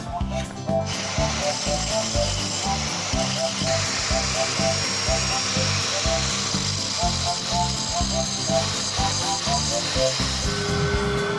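Power grinder taking protruding nails down flush with a floor being fitted with LVT flooring, a steady loud buzzing whine with gritty scraping that runs continuously from start to finish.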